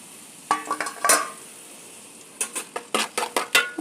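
Chopped shallots stirred in a hot frying pan for a fish curry, with a spoon scraping and clacking against the pan in quick irregular bursts over a faint sizzle, close by and with no talking.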